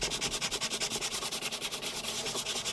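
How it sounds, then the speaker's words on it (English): Hand sanding of a wooden plaque, a quick, even run of scraping strokes repeating several times per second, close and fairly quiet, with no voices. "Now I'm going to sand."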